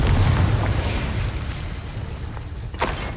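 Confringo spell blast from Hogwarts Legacy, a loud rumbling explosive burst that decays into a noisy roar, with a sharper crackle near the end.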